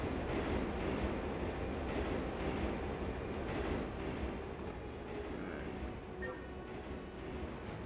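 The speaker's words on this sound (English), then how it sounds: "So we're gonna wait for this train to pass along." A train rolls past in the video game Turok 3: Shadow of Oblivion as a continuous, loud, dense rumble that eases slightly toward the end, with no talking.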